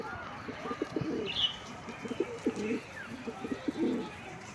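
Pigeons eating paddy coo in low, repeated throaty phrases, three clear bursts close by, with a brief higher chirp in between.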